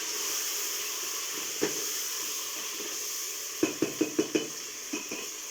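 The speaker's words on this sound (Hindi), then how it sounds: "अब हमने इस टमाटरों को भी इसी ऑयल में फ्राई करना है ताकि हमारे टमाटर गल जाएं।" Chopped tomatoes fry in hot oil for a dal chana gosht curry, giving a steady soft hiss and sizzle with a few quick clinks of a spoon against the pan, heard close.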